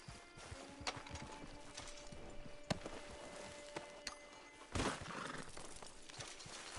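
A horse's hooves clip-clop in Red Dead Redemption Online, with a few sparse, faint thuds and a louder scuffle near the end over a quiet game ambience, no talk.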